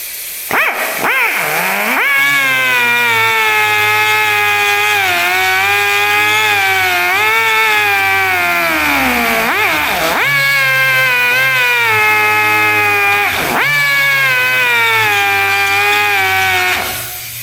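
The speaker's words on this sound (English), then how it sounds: "die grinder with a burring bit on it and just grind this down" A die grinder fitted with a burring bit grinds down filler and bodywork on a custom finned Cadillac hot rod, a loud continuous whine that rises and dips in pitch, briefly easing off twice before spinning back up.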